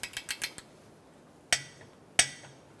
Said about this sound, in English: I'm going to start by torquing this bolt to 31 foot-pounds